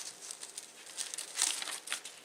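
Crepe paper is laid out on a work surface, giving soft, close crinkling and rustling that rises in a louder crumple midway, with light patters throughout and no speech.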